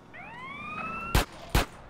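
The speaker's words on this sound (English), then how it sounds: "There's a police car." A police car siren in the video game Grand Theft Auto: San Andreas wails in a rising sweep, then two sharp loud bursts cut in close together near the end.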